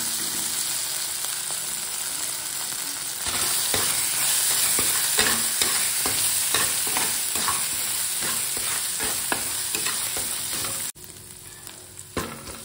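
Vegetables fry in hot oil with dried red chili, five-spice seeds and chopped ginger, giving a loud, steady sizzle with repeated stirring scrapes that drops away sharply near the end.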